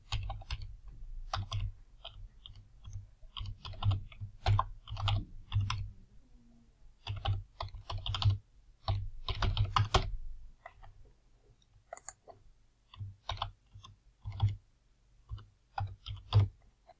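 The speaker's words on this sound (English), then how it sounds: "And now I must enter a administrative username and password." Close clicking keystrokes on a computer keyboard as a username and password are typed, coming in quick bursts and short pauses over a steady low hum, with no talking.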